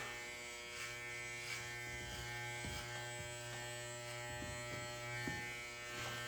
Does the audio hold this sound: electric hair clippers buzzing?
yes